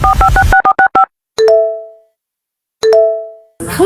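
A phone call goes unanswered: a quick run of dialing tones, then two long ringback tones separated by silence, loud and close, with no voice answering.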